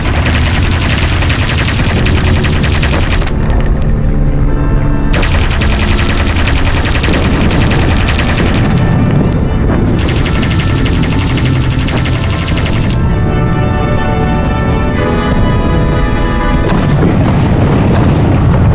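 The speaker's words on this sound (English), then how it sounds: "aim accurately at them, because these anti-aircraft guns will blow us out of the sky" Loud, sustained anti-aircraft gunfire in the flight combat game Aviators: dense rapid bursts and booming blasts packed together with no pauses, a heavy continuous barrage throughout.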